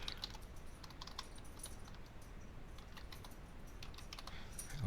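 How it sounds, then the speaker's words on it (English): Quiet, rapid typing on a computer keyboard, with steady close key clicks running throughout over a faint background hiss. "And we'll type in Visual Studio."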